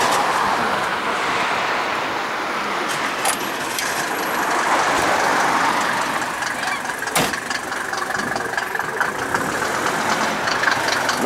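A classic Mercedes at a spring gathering of classic cars in Białystok rumbles steadily nearby as it pulls away or repositions, with a continuous engine drone, a few sharp clanks, and general outdoor crowd noise.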